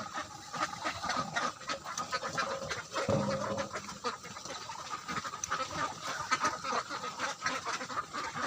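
Ducks feeding on scattered feed at a small duck house built over water, their quacks and busy pecking, dabbling noises forming a dense, steady chatter close by, with no talking.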